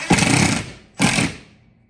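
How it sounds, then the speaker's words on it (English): A power drill bores a hole to mount a tool organizer, giving two short loud bursts of grinding, buzzing whir separated by a brief pause, close up and with no talking. "I'm going to go ahead and drill in this middle hole"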